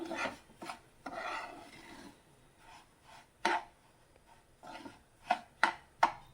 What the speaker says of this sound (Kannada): ಅಲ್ಲಿವರೆಗೂ ತುಪ್ಪದಲ್ಲಿ ಹುರ್ಕೋಣ. ನೋಡಿ, ಒಂದು 2-3 ನಿಮಿಷ ಹುರ್ಕೋಬೇಕು